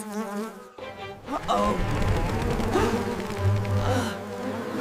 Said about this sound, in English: That tiny bump scared the bees.